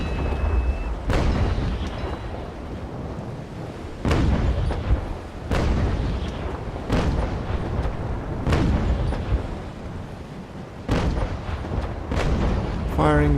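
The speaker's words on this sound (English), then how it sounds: "Firing one cannon at a time." Ship cannons on a USS Constitution-class frigate in the Naval Action video game fire one at a time, about six loud booming shots spaced a couple of seconds apart over steady background rumble.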